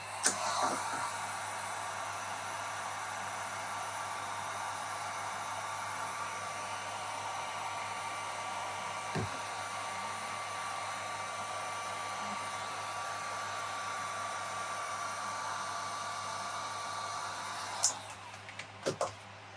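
A heat gun blows steadily and close by onto the vinyl hull wrap of a Pro Boat Sonicwake RC boat, a continuous airy roar lasting most of the stretch with a few faint clicks and handling knocks near the end.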